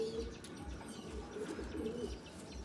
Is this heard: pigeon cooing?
yes